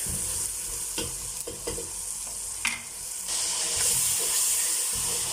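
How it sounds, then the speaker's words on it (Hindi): Masala for aloo palak being stirred and mixed in a pan: a sizzling fry broken by several scraping spatula strokes and clinks, with the sizzle swelling louder toward the end and no one speaking. "अब हम इनको अच्छी तरह से मिक्स कर लेंगे 2 से 3 मिनट।"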